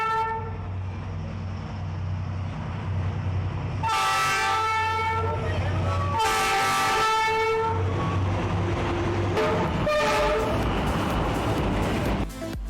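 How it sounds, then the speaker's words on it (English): A train rumbles past close by on the street railway in Hanoi, Vietnam, with a steady low drone, its horn sounding in repeated blasts over the continuous rolling noise. "where trains cross twice a day"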